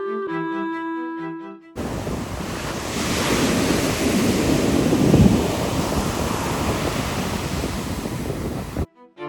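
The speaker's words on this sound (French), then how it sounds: "Il y a des vagues qui s'écrasent derrière." Ocean waves crash and wash continuously onto a California beach for several seconds, loud and close with some wind buffeting the microphone, bracketed by brief music at the start and end.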